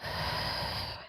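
A slow, steady inhale through the nose during a yoga session, a continuous close breathy rush that holds level for about a second and then cuts off with a small catch at the end.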